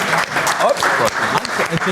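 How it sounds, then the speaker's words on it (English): Applause from a debate audience for expert witnesses, clapping blended with loud overlapping talk and chatter close to the microphone throughout. "Round of applause for our expert witnesses."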